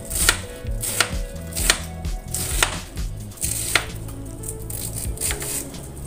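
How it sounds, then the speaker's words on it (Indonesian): Cabbage being sliced with a knife on a cutting board: a steady run of crisp, close chops, about two per second, with no one speaking. "Jadi kolnya cukup diiris-iris seperti ini saja."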